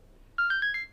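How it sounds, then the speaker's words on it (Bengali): A mobile phone ringtone plays four quick, bright electronic tones in a rising run, clear and close against a quiet room with no talking. "মনে হয় ফোন আসছে"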